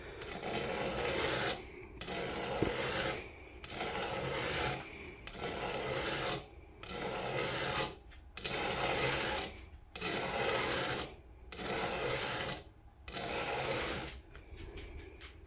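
A broadhead arrow tip drawn across a Worksharp sharpener in about nine even, raspy strokes with brief gaps between them, close and steady and with no voices.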